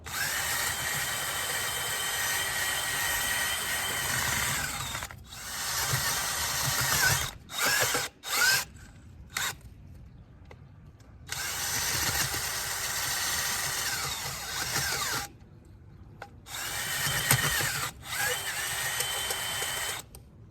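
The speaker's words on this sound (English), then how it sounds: "I have my auger that I'm gonna dig my hole with" Powered auger digging planting holes for a lilac and button bush in rocky soil: a loud, steady motor drone that runs in long stretches, broken by several short stops and restarts.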